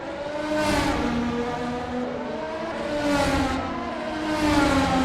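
A race car accelerates out of turn 5 at the Pinwheel GP, its loud engine note climbing and repeating in cycles as it pulls through the gears, sustained and close, with no talk over it.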